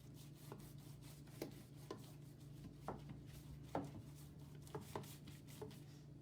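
Butter brushed onto layered baklava with nuts: soft, faint rubbing strokes repeat about once a second over a low, steady background hum.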